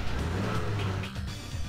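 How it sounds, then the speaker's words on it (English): A car engine runs loudly, then the car skids briefly to a stop in The Typing of the Dead video game. "I love how I just skidded to a halt for absolutely no reason."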